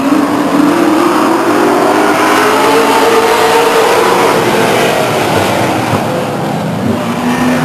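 Race cars roar around the high-banked Stockton 99 Speedway asphalt oval, a loud, sustained engine howl with a slowly sliding pitch as the pack runs single file.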